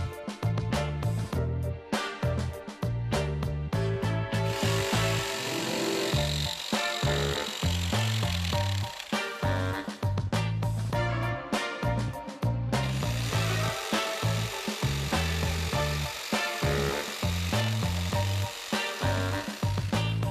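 A saw cuts a cladding ventilation profile to length with rapid rhythmic rasping strokes. The steady back-and-forth grinding goes on for about twenty seconds, pausing briefly around the middle. It is loud and close with no voices.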